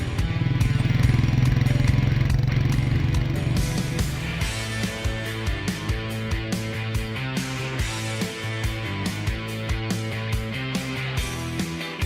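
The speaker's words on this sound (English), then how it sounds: "the unmistakable thump of a Royal Enfield" A Royal Enfield Meteor 350's all-new 350cc single-cylinder engine thumps in a steady, even rhythm, loud and close, with no talk over it.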